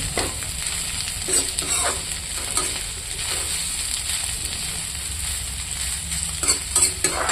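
Food frying in a pan with continual stirring: a dense, loud sizzle broken by repeated spatula scrapes and scuffs throughout, with no one talking.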